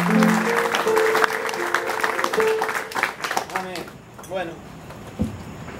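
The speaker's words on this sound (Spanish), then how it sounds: "denle un aplauso a ese año, por favor" A congregation applauds during a sermon, a burst of clapping with music tones underneath that tapers off midway, leaving scattered sounds and a voice.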